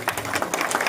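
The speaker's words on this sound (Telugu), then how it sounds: "చప్పట్లు కొట్టాలండి." An audience claps at a village sarpanch and deputy sarpanch swearing-in ceremony, a steady dense patter of many hands, moderately loud and continuous for a brief moment.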